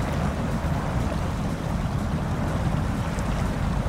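An Isuzu Trooper with a tall snorkel drives through water in the SnowRunner video game, giving a loud, steady wash of churning, splashing water over a low engine rumble with no pauses.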